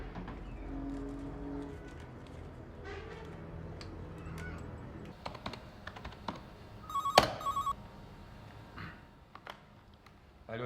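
A telephone rings briefly in a quiet indoor room in a TV drama scene, a short electronic ring burst standing out over faint room tone and light clicking.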